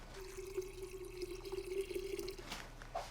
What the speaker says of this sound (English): now we're just gonna cover this with water